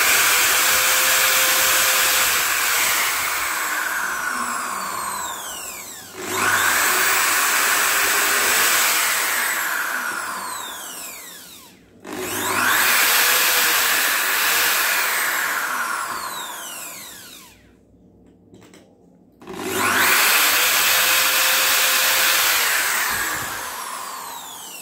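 An electric power drill fitted with an extra side handle runs in long whining bursts of several seconds each, separated by short pauses while small holes are bored during a PVC pipe table build, loud and close with no talking.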